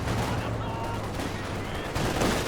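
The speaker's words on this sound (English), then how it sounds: "Oof, big damage from the infantry support gun." Infantry support gun firing in Company of Heroes 2, a dense battle soundscape of continuous gunfire and booming shots with rumbling low end, loud and sustained throughout, with faint voices mixed in.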